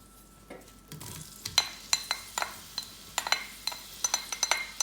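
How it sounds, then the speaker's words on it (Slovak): Onion hits hot salted oil in a pan, a soft sizzle beneath a rhythmic series of sharp spoon clinks and scrapes against the pot as it is stirred, close and fairly quiet. "na takýto posolený olej pridáte cibulku."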